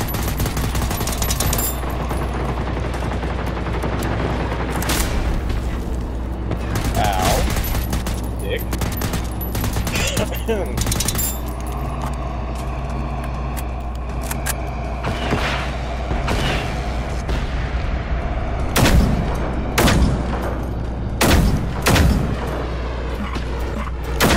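Gunfire in the video game Generation Zero, scattered loud shots and booming bursts of varying distance over a constant low rumble, with some talk now and then.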